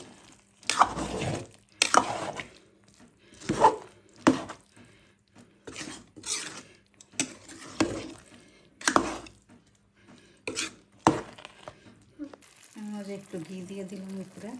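Chicken pilaf mixed in a pot, with soft scraping and stirring knocks between bursts of speech, and a brief clatter near the end.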